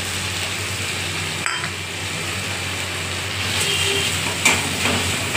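Spices frying in oil in a pan, giving a steady close sizzle with occasional stirring scrapes and light clinks.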